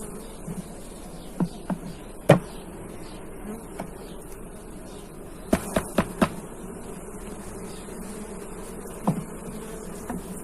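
Honey bees hum at an open horizontal hive while frames are being lifted out, a low steady buzzing throughout with scattered sharp knocks and clicks from handling the frames.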